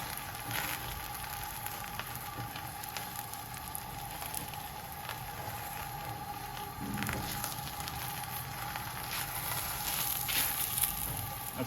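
Aloo paratha cooking on a hot tawa griddle, a soft, continuous sizzle with scattered faint crackles and small bursts, fairly quiet and steady.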